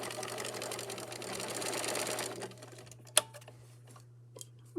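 A sewing machine stitches straight across fabric seams in a fast steady rattle for about two seconds, then stops, leaving a low hum and a few faint clicks and handling knocks.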